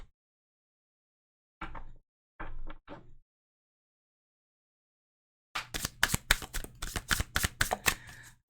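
Tarot cards being handled, a few soft separate riffles and slides followed by a quick run of crisp shuffling snaps, close and quiet, with silence between.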